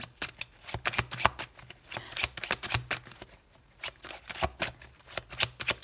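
Tarot cards being shuffled by hand, a steady run of crisp riffling and slapping bursts close by, with no talk.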